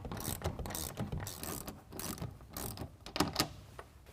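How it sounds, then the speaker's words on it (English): Ratchet tightening nylock nuts on a BAK Revolver X4s tonneau cover on a 2020 Jeep Gladiator, giving quick irregular clicking bursts up close at low volume with no speech. "we're going to take a 1/2 inch wrench or ratchet and tighten these down just to where they're not quite snugged"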